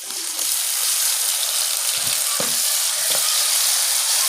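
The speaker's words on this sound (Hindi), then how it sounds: "हम इसमें डालेंगे टमाटर" Tomatoes sizzling loudly in a frying pan with garlic paste for a bhindi fry, a dense, steady hiss close by with a few soft knocks and scrapes, no voices.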